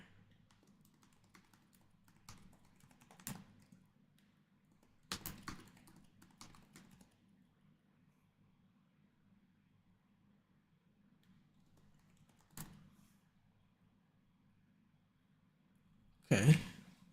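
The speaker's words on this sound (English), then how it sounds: "Let me just go type this up in the" Sparse computer keyboard typing in short bursts of taps separated by long pauses, faint and close over a low steady background hum, with a louder clatter of keys near the end.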